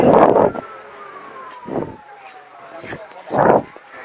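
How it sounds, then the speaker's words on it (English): A faint, distant siren wails steadily in the background while a person speaks in short bursts over wind and passing traffic. "I don't know if you can hear the siren."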